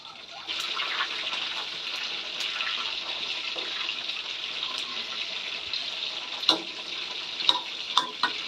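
Crispy pork belly fries in hot oil with a continuous bright sizzle, and a few sharper pops and crackles break out near the end.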